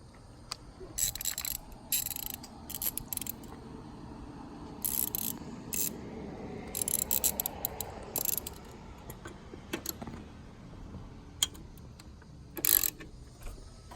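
A ratchet wrench loosens the radio bolts on a 2014-2018 Harley-Davidson Road Glide, giving short bursts of fast metallic clicking spread across the clip, separated by quiet gaps and handling noise.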